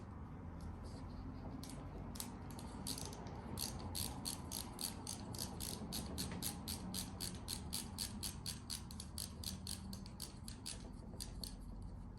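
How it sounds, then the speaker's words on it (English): A ratcheting screwdriver from Linus Tech Tips clicks in a long, even run of sharp, quiet ticks, with no talking. "going back to the ratcheting part of it"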